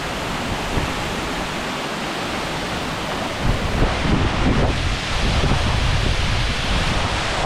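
Roar of a large Scottish waterfall mixed with gusting wind buffeting the microphone, a constant loud broadband rush that swells stronger partway through, with no voices.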